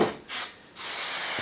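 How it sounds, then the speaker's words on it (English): Adhesive spray cans hiss in short bursts around the perimeter of fabric during upholstery work, giving two quick sprays and then a longer steady hiss, close and fairly quiet. "give it a perimeter spray, because you're going to pull it in and stick it on the back"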